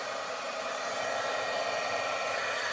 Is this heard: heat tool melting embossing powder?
yes